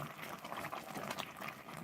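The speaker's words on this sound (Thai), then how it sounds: "เดือดเยอะมากเลย" Northern Thai sweet taro-leaf curry with pork rinds boils vigorously in a pot, a steady dense bubbling and popping that runs without pause at a soft, close level.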